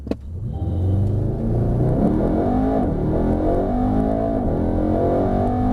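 A Mercedes-Benz AMG E63s Estate Edition 1 launches at full throttle, its engine roaring loud and close, climbing in pitch through several gear changes with a deep rumble underneath and no talk.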